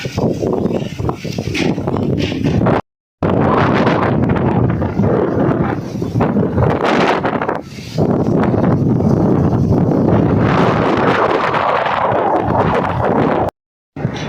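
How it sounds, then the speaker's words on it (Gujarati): Strong pre-monsoon summer storm wind buffets the microphone in loud, roaring gusts, broken by two brief dropouts. "એકવાર તમે પવન જો"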